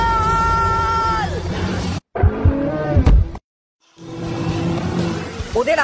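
Cars drifting and spinning donuts through water, with loud engine roar rising and falling, broken by abrupt drops to silence, and excited voices between bursts.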